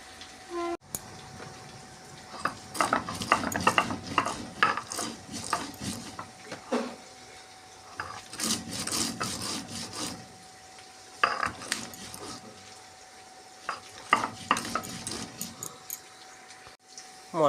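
A spoon scraping and clattering in a pan while frying potatoes and spices are stirred, in repeated bursts of metallic scrapes separated by short pauses, close to the listener.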